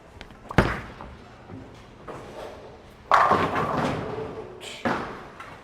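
A bowling ball rolls down the lane and strikes the pins, with a sharp thump at release, a rumbling roll and a loud clattering impact, then a further knock. Someone talks over part of it.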